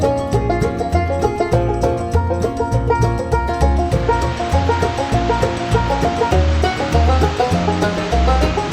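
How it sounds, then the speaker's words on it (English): A waterfall in Transylvania County rushes steadily, a dense, loud roar of falling water that continues without break, with soft music playing underneath. "Transylvania's waterfalls are a rare, breathtaking sight."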